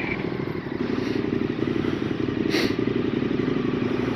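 A motorcycle rides over dirt tracks, its engine droning steadily at close range with rattling and scraping from the rough ground beneath.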